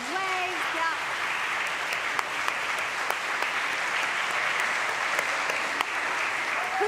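A church congregation applauding its volunteers during a Sunday service, a steady wash of clapping that runs unbroken throughout with a few brief voices rising over it.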